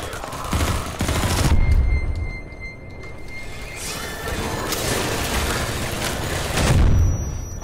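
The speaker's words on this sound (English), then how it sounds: "God damn these nades" Grenade blasts and gunfire in the Half-Life 2 MMod shooter, with heavy booming bursts near the start and again late, over continuous loud combat noise.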